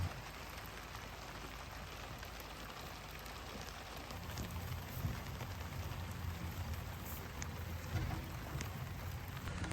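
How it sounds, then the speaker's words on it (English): Steady rain falls on an off-grid homestead in the woods, a continuous dense patter on surfaces that grows slightly heavier partway through, with scattered louder drops and no voices. "They don't want to come out in the rain"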